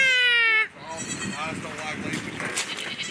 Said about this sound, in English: It's a nice pair of goats you got there.